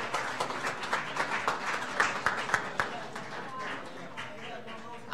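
Scattered clapping from a small crowd at a trade school signing day, with loud claps standing out, a voice talking over it and the sound fading toward the end.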